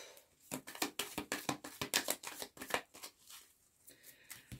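A deck of cards is shuffled and cut, giving a rapid series of crisp riffling slaps and flicks at close range, fairly soft, with a brief lull near the end.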